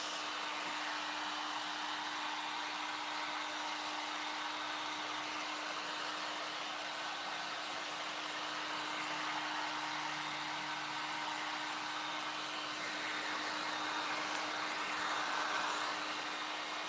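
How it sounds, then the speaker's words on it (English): A heat gun blows on a craft project, giving a continuous loud, steady roar of hot air with a faint constant hum underneath, unbroken for the full stretch. "I'm going to start drying these. Sorry for the heat gun."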